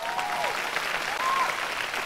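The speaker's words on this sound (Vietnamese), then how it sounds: "mọi người vỗ tay để cho em vào" A studio audience at a Vietnamese comedy show claps steadily, producing a dense, even wash of applause that carries on unbroken throughout.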